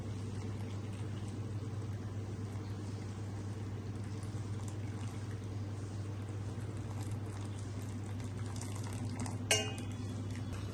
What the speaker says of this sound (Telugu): అడుగంటకుండా ఇలా కలుపుకుంటానే ఉండాలి